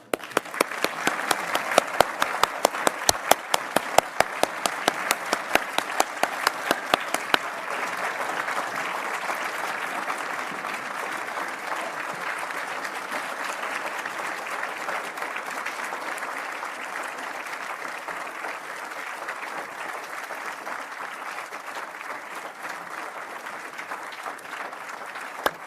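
Sustained audience applause at the 2025 Order of British Columbia investiture ceremony, starting with sharp, dense clapping and settling into a steady, even roar that carries on for nearly half a minute with no talk over it.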